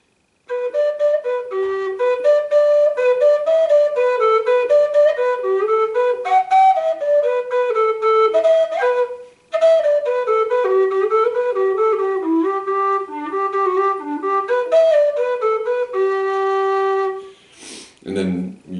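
A tin whistle in D plays the Stone of Destiny reel alone: a bright, quick run of ornamented notes with one brief break midway. The tune stops near the end, followed by a short non-musical sound.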